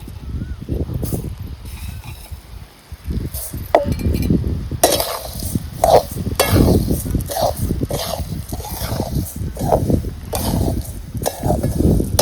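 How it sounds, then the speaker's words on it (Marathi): Coriander seeds being dry-roasted in a large pot over a wood-fired chulha, with steady scraping and stirring clatter throughout, close and fairly loud, and a voice speaking in the background. "आपल्या मोठ्या बोगल्यात धन भाजून घ्यायचे सगळे"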